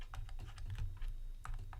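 Keys on a computer keyboard clatter in a quick, close run of light taps over a low steady hum, with no voice over them.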